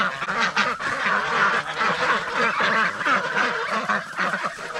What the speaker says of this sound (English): Ducks and geese are just such creatures of habit.